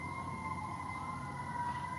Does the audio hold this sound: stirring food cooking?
no